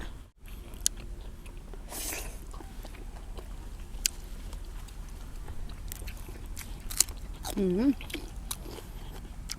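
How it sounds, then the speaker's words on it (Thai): People chew fresh raw beef at a Thai meal of raw beef and liver with dipping sauce, with soft crunchy bites and moist chewing up close as voices talk nearby. "เดี๋ยวมากินเนื้อก่อนนะจ้ะ"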